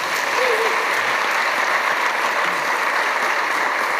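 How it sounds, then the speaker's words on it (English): An audience at a technical conference talk applauds in a steady, full wash of clapping that continues evenly throughout, with faint voices barely surfacing underneath. "thanks very much, Andreas, especially for his courage, which is actually worth an extra applause"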